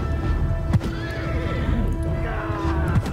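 A horse in the video game Bannerlord whinnies over a background of hoofbeats and battle noise, the neigh loud and close, with a second, shorter whinny near the end.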